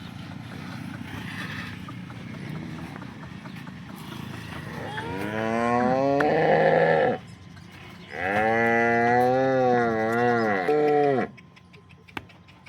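A cow at a cattle sale in Vadnagar lets out two long, loud, close moos with a brief pause between them, over low background murmur and farmyard noise.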